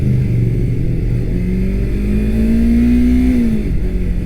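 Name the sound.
2019 Yamaha R3 motorcycle riding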